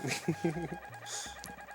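Clucking chicken from the video game Secret of Evermore, a few short mid-pitched clucks in quick succession with faint talk around them.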